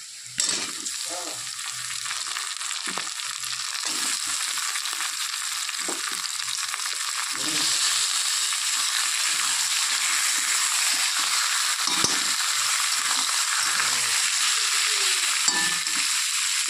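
Chicken pieces sizzling and being stirred into fried onions in a pan for Bengali chicken kosha, a steady loud frying hiss with scraping stir sounds throughout, no talking.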